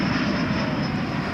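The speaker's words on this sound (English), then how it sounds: "it's Airbus A321. It's coming in from Seattle." An Airbus A321 jet arriving from Seattle roars past at a night airport, a loud, steady broadband engine rumble filling the whole brief moment.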